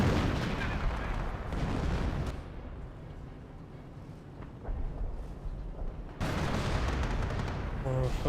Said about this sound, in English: Oh, the sector artillery got a good shot there.